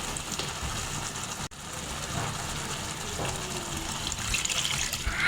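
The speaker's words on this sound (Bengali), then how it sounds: "এখন পরিমাণ মতো পানি দিয়ে দেব।" Water is poured into a pot of simmering bottle gourd curry with katla fish, a steady rushing gush with a brief break partway, fairly close with no talk.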